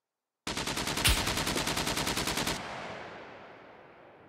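Automatic gunfire shot through a wall in the SCUM survival game: a rapid, evenly spaced burst of about two seconds, loud and close, then a long fading echo with no talking.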